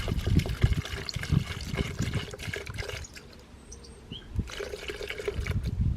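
Liquid poured into a pot, a steady splashing, trickling flow that eases off briefly midway and then picks back up, fairly close and alone without talk.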